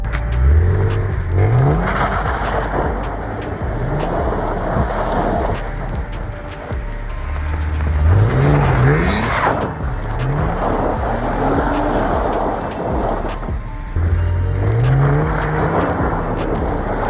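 A drift car repeatedly revs and accelerates hard through slides, its engine note climbing in loud surges with tire squeal, heard up close across several passes with no talking.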